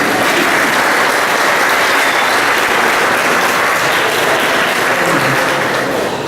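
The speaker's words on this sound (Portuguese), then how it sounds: "A gente também aqui merece uma salva de palmas, não é?" Dense, steady applause from a church congregation carries on at full strength throughout, with many hands clapping together close by.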